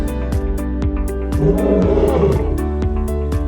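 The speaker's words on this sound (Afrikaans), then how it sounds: "Leeu's is die enigste katte wat saam brul." Deep lion roaring, a loud rumbling call that swells and fades, with rhythmic clicks and layered harmonic droning running steadily underneath.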